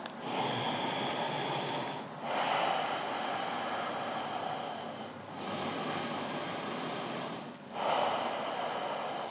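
Loud, audible breathing through the nose during a yoga pose: three slow, even breath cycles in a row, close to the microphone and heard alone without talk.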